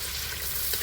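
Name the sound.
chicken frying in oil for picnic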